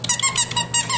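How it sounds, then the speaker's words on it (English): A squeaky dog toy squeaks in quick, high repeated pulses, about six in a second, close and loud, as a Cocker Spaniel puppy plays with it. "if I can get Harley away from the squeaky toy"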